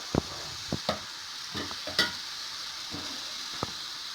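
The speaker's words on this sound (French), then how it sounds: "le beurre commence à fondre. Vous voyez?" Butter melting in a saucepan on the stove for a potato gratin, giving a faint, soft sizzle with a few light clicks and taps scattered over quiet background hiss.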